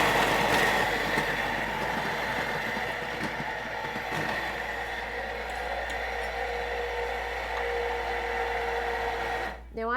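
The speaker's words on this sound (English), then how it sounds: "Next up, let's blend it." A Thermomix runs near speed 8, blending frozen strawberries with a steady, loud, churning whir that holds for about ten seconds and then cuts out.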